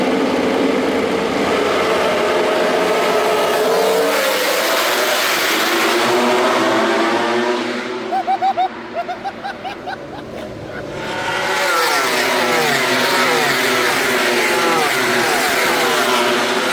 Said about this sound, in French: Deuxième moto qui est en train de chauffer